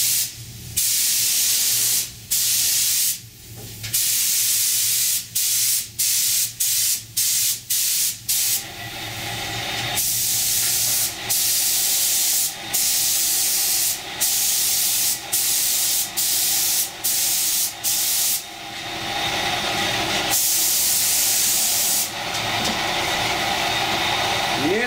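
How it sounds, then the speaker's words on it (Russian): A spray gun lays down a light first coat of paint in a series of short hissing bursts separated by brief pauses, with a few longer sustained passes, close and loud. "Небольшой напыл делаем сначала"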